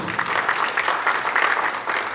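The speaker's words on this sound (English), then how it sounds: "So give these young men and women a round of applause." An audience at an Oceanside High School signing day event gives a round of applause, a steady, dense clapping from a crowd that carries on throughout.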